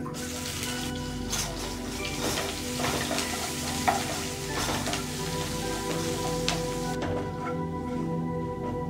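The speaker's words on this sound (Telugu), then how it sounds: "1 టేబుల్ స్పూన్ నెయ్యి, 1/2 టీ స్పూన్ జీలకర్ర, చిటికెడు ఇంగువ, ఒక చిన్న ఉల్లిగడ్డ సన్న చీలికలుగా కోసుకున్నది" Thin slices of onion sizzle loudly in ghee and a little oil with cumin seeds and a pinch of asafoetida, a dense crackling fry broken by occasional scraping stirs, with no talking.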